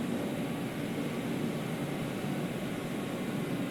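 Aircraft engines in the naval battle video game World of Warships make a steady, dense, broadband drone that holds at an even loudness throughout, with no talk over it.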